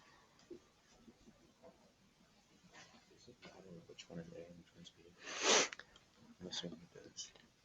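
A single sharp sneeze bursts out loudly in a classroom during a conditional probability lesson, standing out above quieter background talk and shuffling.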